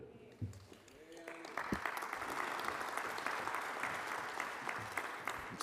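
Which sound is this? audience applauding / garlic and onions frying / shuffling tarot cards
audience applauding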